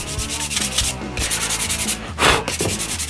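Brisk sanding strokes rubbing across a wooden knife handle, rapid repeated rasps with short gaps, close and loud.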